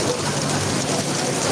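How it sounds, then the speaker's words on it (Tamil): Heavy rain pours down at Tekka Centre, a market in Singapore, as a steady, dense hiss with no breaks that fills the whole moment at a constant loudness. "சிங்கப்பூரில் செம்ம மழை பெஞ்சிட்ருக்கு"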